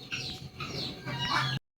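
Chickens let out of their coop on a rain-damp morning give a brief burst of clucks and chirpy calls, fairly close but soft, with no talking over them.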